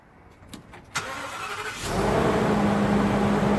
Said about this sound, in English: On the count of 3, we're gonna start her up.